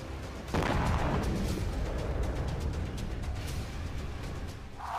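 A sudden heavy blast from an explosive attack in Pakistan erupts, followed by a long rumbling roar that slowly fades, loud and close.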